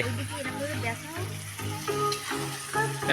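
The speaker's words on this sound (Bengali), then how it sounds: "খালি মাংস কষাই হচ্ছে এখন" Meat sautéing in a pan over a wood fire at an outdoor picnic, a steady loud sizzle with stirring, while a person talks over it.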